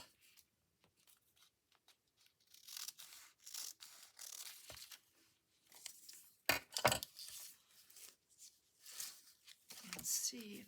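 Index card paper cut with scissors, a few soft intermittent snips and rustles, quiet and close, with gaps between cuts.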